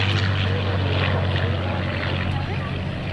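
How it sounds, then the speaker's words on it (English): A P-40 Warhawk warbird flies at an airshow, its engine making a steady, loud droning roar that holds evenly throughout, with faint voices mixed beneath it. "P-40 Warhawk."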